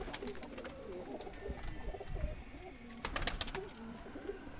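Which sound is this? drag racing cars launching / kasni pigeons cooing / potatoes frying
kasni pigeons cooing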